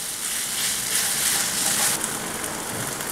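Two crushed medium tomatoes sizzle in a kadai while being stirred for paneer curry, a dense, even crackling hiss like light rain that holds steady and close throughout with no talking.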